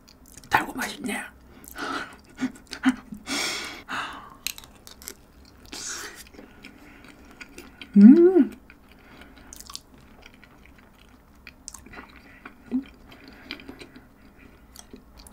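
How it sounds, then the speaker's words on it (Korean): Close, soft chewing of ice cream eaten with sweet potato, with brief bites and mouth sounds spread across the clip, one louder moment midway, and a little quiet vocalizing. "아이스크림을 같이 먹어볼게요"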